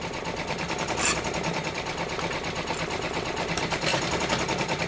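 A Brother embroidery machine stitches out a freestanding gingerbread village bridge design in red thread, a fast, steady, close mechanical chatter running continuously with a few brief higher ticks.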